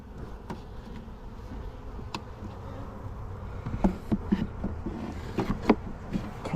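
Honey bees hum and buzz steadily around an open hive during requeening, with a dense drone of many insects close by and a few louder passes and bumps toward the end.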